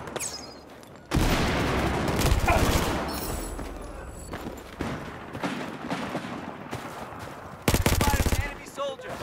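A FAMAS rifle fires in the Battlefield 4 video game with two loud, close bursts of rapid automatic fire. Scattered shots and explosions rumble between them.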